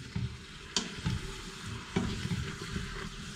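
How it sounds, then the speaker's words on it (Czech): Paprika and meat being stirred and fried in a pot for Szeged goulash, with a steady sizzle and several scraping stir strokes from a spoon, close and alone with no talk. "Papriku takhle orestuju"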